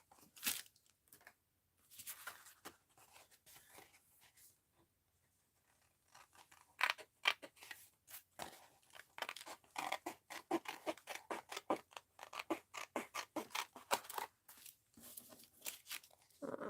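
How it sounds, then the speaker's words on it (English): Scissors snip out paper pieces for a mixed-media art journal, a long run of quiet, close, irregular cuts and crisp paper rustles after a brief pause, no voices. "trim these out"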